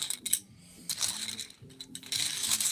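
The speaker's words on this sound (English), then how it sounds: "And then I'll shuffle them." Yo-kai Watch medals being shuffled by hand, giving bursts of light metallic clinking and rattling that come and go in short clusters, close up with no talking.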